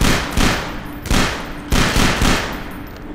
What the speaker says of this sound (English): John's gonna shoot him.